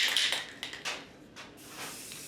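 Krylon Fusion satin black paint-and-primer sprayed onto a door: several short, close hissing bursts of the aerosol can, then a quieter final spray, with no talking.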